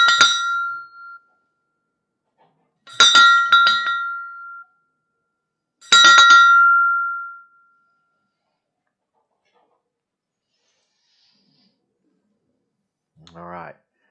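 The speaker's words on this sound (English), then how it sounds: "we are going to pray for Buddy and ring the bell right now" Three bright bell rings during a livestream prayer for a family, each struck clearly with a ringing tail and separated by silences, followed near the end by a brief low voice.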